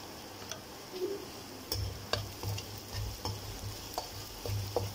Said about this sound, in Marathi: कांदा छान मस्त खरपूस असा भाजून घ्यायचा आधी तेलामध्ये